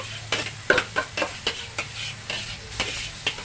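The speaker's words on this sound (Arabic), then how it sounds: "دلوقتي بقى هنشوح الفراخ. حطينا كده حته السمنه، نحط الفراخ كده عليها" Chicken pieces sauté in ghee in a pan, giving a soft steady sizzle broken by a run of sharp clicks and scrapes as the meat is stirred and turned, fairly quiet and close.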